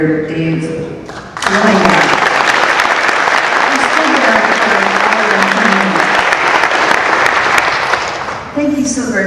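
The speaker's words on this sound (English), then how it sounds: "I'd also like a special applause for our moderator, Dave." Audience at a Long Beach mayoral debate breaks into loud, sustained clapping for the moderator, swelling after a brief spoken lead-in and tapering near the end, with voices at the edges.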